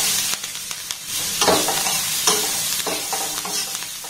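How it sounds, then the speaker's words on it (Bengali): Sliced onion and three green chilies fry in a spoonful of hot butter while a spatula stirs them, producing a loud steady sizzle broken by several sharp scraping strokes against the pan. "পেঁয়াজ আর কাঁচা লঙ্কাটাকে দেখুন একটু হালকা নাড়াচাড়া করে ভেজে নিয়েছি"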